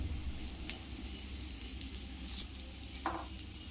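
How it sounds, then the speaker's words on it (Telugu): Spice masala with chili powder and salt fries in a pan, a low, steady sizzle with a few faint scrapes of stirring over it. "ఈ మసాలాలన్నీ బాగా కలుపుకొని వేయించుకోవాలి"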